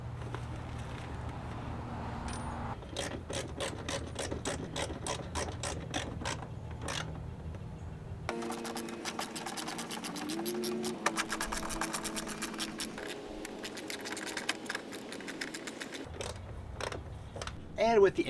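Socket ratchet tightening Rokblokz mud flap fasteners on a Ford Ranger Raptor, a quick run of close, crisp clicks, a pause, then a denser stretch of ratcheting with some creaks, and a few final clicks.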